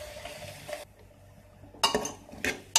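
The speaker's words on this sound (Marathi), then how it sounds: "व्यवस्थित मिक्स करून घ्यायचं आहे।" Grated coconut and sugar being stirred in a pan for a raw banana fasting bhaji, with soft scraping and a few sharp metallic clinks of the spoon against the pan, close and fairly quiet.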